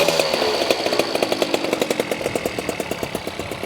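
A Peugeot moped engine fires and runs with a rapid, regular two-stroke popping beat, loud and close, its steady rhythm holding throughout with no talk over it.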